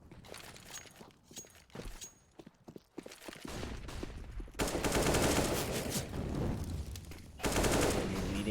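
Bursts of automatic gunfire and rifle shots from a Counter-Strike match in an ESEA Premier relegation game: sparse shots at first, then dense, loud sustained firing that swells near the end, with no talk over it.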